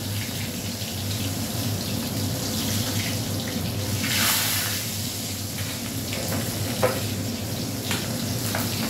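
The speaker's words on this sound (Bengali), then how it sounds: "এই একটা মাছ চিংড়ি মাছের সাথে চলে এসছে, ভেজে নিলাম।" A small fish fries in hot oil in a home kitchen, a continuous close hiss and crackle with no talking.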